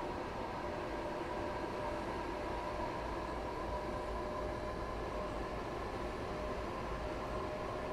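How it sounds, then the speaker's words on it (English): A train in the Train Sim World 4 game runs steadily around Brighton, its rail rumble and wheel noise a constant, even drone that holds at the same level throughout. "Train!"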